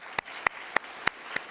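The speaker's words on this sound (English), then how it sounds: "Y'all are not supposed to clap for yourselves." Five sharp, evenly spaced claps at a Wednesday night church prayer service, crisp and fairly close, with a hushed room in between.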